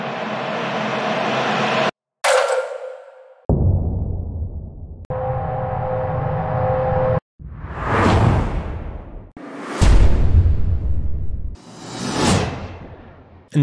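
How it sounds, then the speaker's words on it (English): A montage of cinematic effects separated by short gaps: droning tones, low booming swells, grainy scrapes and several rushing whoosh hits that rise and fall. "tension scrapes, miscellaneous, sub booms, suck backs, whoosh hits, and all kinds of stuff"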